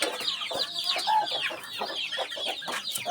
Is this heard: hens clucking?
yes